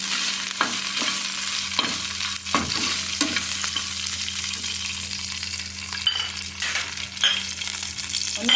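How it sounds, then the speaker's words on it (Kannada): Chicken sukka ingredients fried one at a time in a pan, Mangalore style, with peppers and onions: a steady loud sizzle throughout, broken by the scrape and clatter of repeated stirring. "ಚೆನ್ನಾಗಿ ಫ್ರೈ ಆಗಲಿ."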